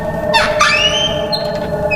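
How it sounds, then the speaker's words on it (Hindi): Old iron door creaking open: two sharp, high metallic squeals rising and sliding in pitch over a steady droning background, fairly loud and close. "समीर के कहने पर विक्रम दरवाज़ा खोलता है।"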